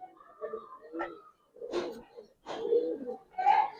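Giribaz highflyer pigeons coo in soft, low bursts at close range, several rounded calls with brief pauses between them.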